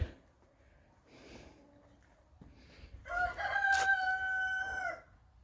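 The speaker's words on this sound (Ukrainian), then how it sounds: "Ох, півники мої співають." A rooster crows loudly nearby in one long, drawn-out call, preceded by a few softer clucks and quieter sounds.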